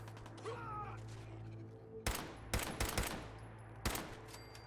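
Gunfire in Fallout 4: a few sharp, loud shots spaced about half a second apart in the second half, following a quieter stretch of ambient game sound.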